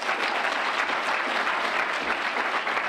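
An audience clapping their hands together, a dense, even burst of applause from many people, steady and fairly loud for the whole stretch.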